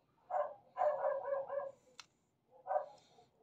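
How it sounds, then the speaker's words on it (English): Several dogs bark outdoors in the background of a home electronics workbench, in short bursts: a brief volley, a longer run of barks, then another after a pause, fairly faint and distant with no talking. "Sorry for the dogs."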